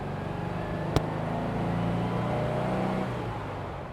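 Porsche 356 engine pulling away after a 3,500 rpm shift, a steady low drone that rises slightly in pitch over a few seconds, with one sharp click near the start.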